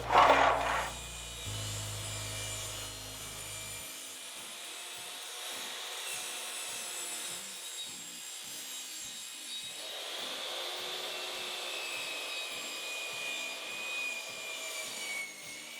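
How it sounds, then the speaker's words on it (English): A miter saw cuts through a wooden stick steadied by a second stick, giving a steady, close grinding whine that runs unbroken for about fifteen seconds after a brief louder start. "I'm actually going to use the miter saw"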